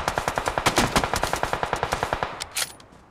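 Rapid automatic gunfire in the mobile video game PUBG Mobile, a loud burst of about twenty evenly spaced shots in quick succession, with a final sharper crack near the end.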